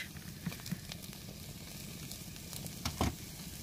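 Crab roast sizzling in a pan outdoors at night in the Sundarbans, a steady close frying hiss with a few small pops and a louder crackle near the end, no voices.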